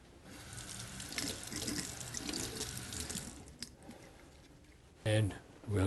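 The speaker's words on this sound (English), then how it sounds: "Then wash it off." Running water from a sink tap as gloved hands and a part are rinsed off over a sink, a steady wash through most of the clip; a short burst of a voice comes near the end.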